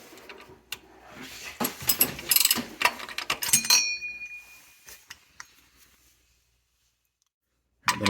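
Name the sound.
ratchet tightening plastic oil filter housing cap on Lexus CT200H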